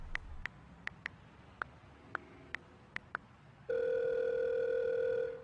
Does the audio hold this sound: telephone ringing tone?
yes